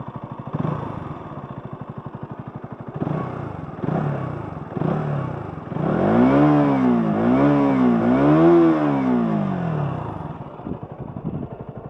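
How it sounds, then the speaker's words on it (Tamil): A 2025 KTM Duke 200 motorcycle idles with a steady burble, then its exhaust is revved hard in several rising and falling sweeps, loud and close, before settling back to idle. No one speaks. "சூப்பர்பான ஒரு எக்ஸாஸ்ட்டு."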